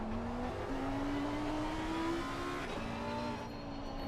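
Lamborghini race car in a sim racing game at the Nürburgring, its engine droning steadily with rising revs and brief shifts, loud and continuous with no talk.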